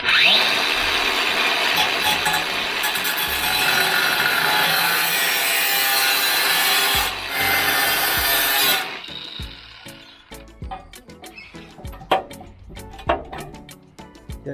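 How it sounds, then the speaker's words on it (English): An angle grinder cuts through a metal box gutter with a loud, steady high-pitched screech for about nine seconds. It then stops abruptly, leaving scattered clicks, taps and handling noises from the metal piece. "Angle grinder, I'm gonna cut this out."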